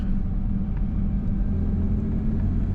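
A 1994 Toyota Pickup Xtra Cab SR5 4x4's engine rumbles steadily from inside the cab, a constant low road drone with no talking.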